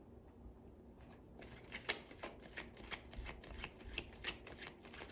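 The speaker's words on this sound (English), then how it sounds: "as I shuffle these cards" Tarot cards are shuffled close up in a quiet room, giving a run of quick, soft riffling snaps and papery flutters that come in uneven bursts.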